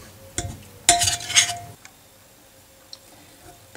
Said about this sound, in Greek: πατάω καλά τα λεμόνια να βγάλουν το ζουμάκι τους και ανακατεύω